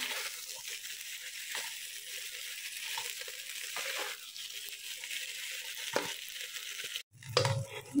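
Potato fry with green chillies being stirred in a pan, a steady hissing sizzle with soft scraping strokes of a spoon, close and moderately loud, ending in a brief clatter; no one talks.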